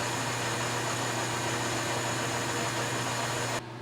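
A lathe takes a skim cut off a 15mm deep well socket, giving a steady, loud mechanical whir and hiss that holds constant for several seconds, then cuts off abruptly.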